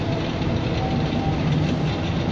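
A train rumbles steadily nearby near Buena Vista station in Singapore, a loud continuous roar of wheels and carriage noise with no voices.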